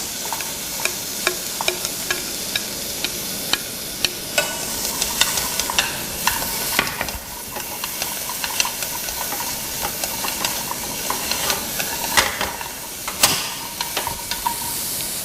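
Onion and carrot sauté in a little oil in a pan, a constant loud sizzle and hiss with frequent scraping and clacking from the stirring utensil, close and uninterrupted by speech.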